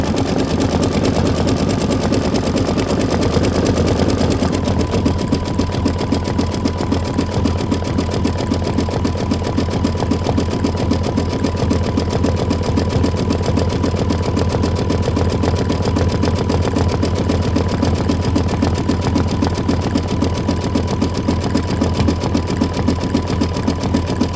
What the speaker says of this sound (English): This is 5 minutes of stitching